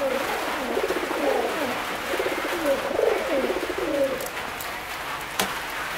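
Racing pigeons in a loft coo in soft repeated throaty phrases, close and fairly quiet, with a few light knocks and rustles in the background and no talking.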